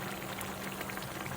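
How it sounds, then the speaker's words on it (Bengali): Hot water added to a pot of chicken curry as it cooks, a faint steady bubbling hiss with soft liquid spatter, continuous and without speech. "এরপর গরম পানি দিয়ে দিলাম।"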